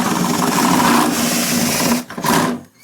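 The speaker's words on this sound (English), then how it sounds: "And this is the 1-inch paddle bit." Power drill driving a 1-inch paddle bit through a plastic chicken or duck waterer, a steady loud whirring grind for about two seconds, then a brief stop and a short second burst before the motor winds down.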